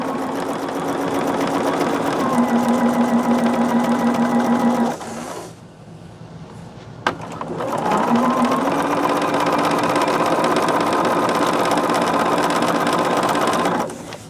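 Sewing machine stitching quilt pieces together, running steadily and loud for about five seconds, pausing briefly, then starting again and running continuously to the end.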